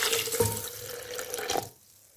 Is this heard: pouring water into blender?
yes